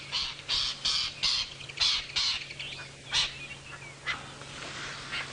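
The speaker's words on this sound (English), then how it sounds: "this roller is just having a territorial dispute. Or perhaps a courtship dispute." A roller bird gives repeated harsh, rasping calls during a territorial or courtship dispute on an early-morning safari drive in the African bush, several bursts close by with softer birdsong and a low engine hum behind.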